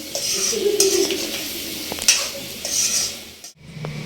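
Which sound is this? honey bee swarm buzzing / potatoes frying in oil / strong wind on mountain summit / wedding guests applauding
potatoes frying in oil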